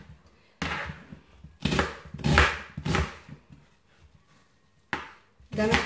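An onion being chopped with a knife, several sharp, close cuts landing irregularly with short pauses between them.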